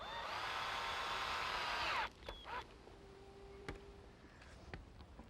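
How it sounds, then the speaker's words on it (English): A cordless drill drives a screw into a pergola rafter over the outer beam, one loud steady whir for about two seconds that stops abruptly, followed by faint clicks and handling noises. "On the end rafters, I'm going to put one screw over the outer beam."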